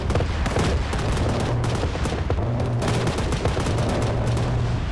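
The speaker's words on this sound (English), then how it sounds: "Charlie 2 command is friendly air strafing the compound." Sustained, loud gunfire from aircraft strafing a compound in a military video game, with dense bursts packed tightly together and a low rumble running continuously underneath.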